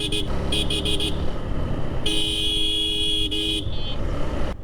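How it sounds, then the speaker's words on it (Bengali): A car horn on a road in Jessore, Bangladesh sounds in a few short toots and then one long held blast. It is loud and close, over rumbling traffic. "একটা দুইটা হর্ন দিলে আসলে এরা সরতে চায় না এদের হর্ন চেপে ধরে রাখতে হবে"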